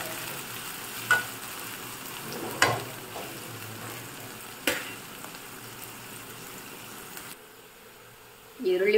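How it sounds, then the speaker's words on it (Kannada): Onions frying in a pan for chicken biryani, a steady sizzle with a few louder stirring scrapes spaced apart, close and continuous before the sound drops near the end. "ಈರುಳ್ಳಿಯನ್ನು ಚೆನ್ನಾಗಿ ಫ್ರೈ ಮಾಡಬೇಕು."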